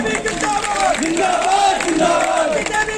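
Crowd at a Madhya Pradesh by-election political rally roaring and cheering, a loud continuous wall of many voices with chant-like shouting throughout.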